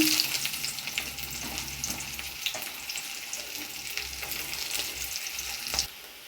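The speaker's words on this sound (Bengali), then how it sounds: "পেঁয়াজগুলো আমার লাল করে ভাজা হয়ে গেছে" Onions frying in mustard oil for ghugni, a steady close sizzle with stirring scrapes and occasional spatula knocks, continuous and fairly quiet with no voices.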